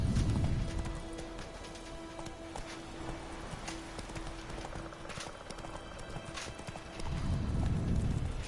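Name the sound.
horse galloping in The Witcher 3 video game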